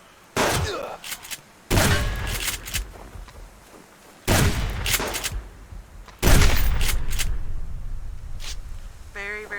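Gunfire in the survival game Subsistence, with four heavy volleys of rapid shots spaced a couple of seconds apart, loud and close, each tailing into echo, and a brief voice between bursts.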